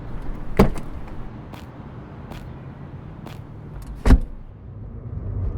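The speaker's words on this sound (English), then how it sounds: "Once the cab is stopped, Bruno and Pat both get in" A taxi cab stopping to pick up two passengers: low engine rumble throughout, with two sharp, loud door thumps a few seconds apart.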